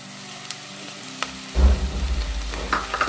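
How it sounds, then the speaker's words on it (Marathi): Onion and tomato for Punjabi dum aloo hit a hot pan: after a faint clink or two, a loud sizzle bursts in midway, then settles into steady frying with small spoon scrapes. "आता आपण याच्यात टोमॅटो ॲड करूया"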